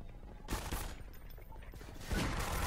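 Gunfire in the video game Half-Life 2, two loud bursts of shots about a second and a half apart, separated by quieter shuffling game noise.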